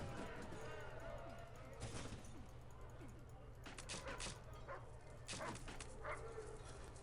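A dog yips and barks in bursts inside the prison-escape game The Escapists, heard over game noise while a person talks at the same time.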